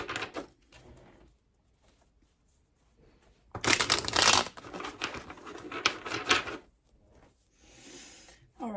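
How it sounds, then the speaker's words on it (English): Bursts of papery riffling and rustling as a deck of cards is shuffled close by, in several quick runs separated by quiet pauses. "I feel like I should shuffle that one more time."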